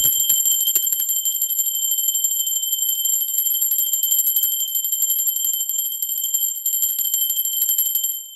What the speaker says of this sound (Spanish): Va campana, seres divinos.